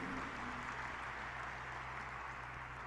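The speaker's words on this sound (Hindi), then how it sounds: "ताली बजा रहे हो, हर्षनाद कर रहे हो" Audience applause at the Maheshwari Mahasabha international convention, a steady dense wash of clapping from a large crowd heard at a distance, continuous throughout.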